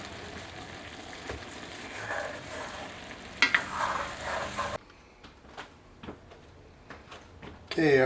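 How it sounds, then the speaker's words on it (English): Brats and potatoes being stirred in a cast iron pan, with a steady sizzle and scraping for the first part, then quieter clanks and scrapes of the utensil against the pan, plus a louder rattle at the end. "I'm going to be stirring it every few minutes to make sure it doesn't stick."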